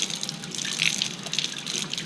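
Hot water runs steadily from a tap for jewellery heating work, a continuous close splashing stream with no talk.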